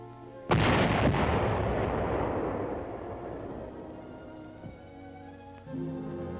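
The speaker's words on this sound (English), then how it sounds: "Dynamite was used to blast it into the bay." A dynamite blast clearing beach ice into a bay at an American base construction site in Greenland, one sharp loud boom followed by a long rolling rumble that slowly fades, with a fainter thump near the end.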